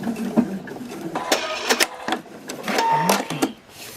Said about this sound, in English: go into the seam allowance and I do my back stitch.